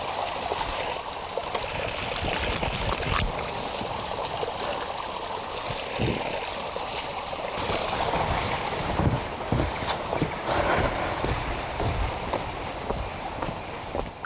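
Fresh spring water pours from a spout at Situgunung in Sukabumi, a steady dense rushing splash that fills the whole scene with constant outdoor wash.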